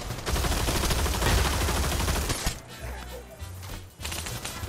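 Dense, rapid gunfire crackles loudly in a VR cowboy shooter game, volleys overlapping for a couple of seconds before easing into sparser shots, with voices faintly mixed in.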